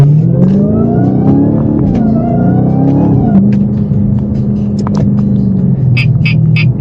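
Supercharged V8 car engine revving from inside the cabin, a steady low rumble that climbs and falls through a few throttle blips while driving, loud and continuous with no talk over it.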